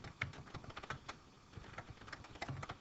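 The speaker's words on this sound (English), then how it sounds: "So excuse me for a minute as I type." Someone types on a computer keyboard in short, irregular bursts of soft clicking keystrokes. The keys sound near but quiet, with brief pauses between runs.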